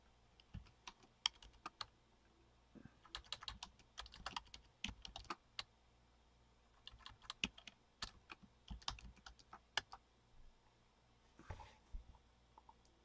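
Someone types on a computer keyboard in bursts of quick, light key clicks separated by short pauses, close and fairly quiet, with no voices over it.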